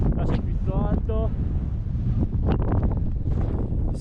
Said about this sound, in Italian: sempre vento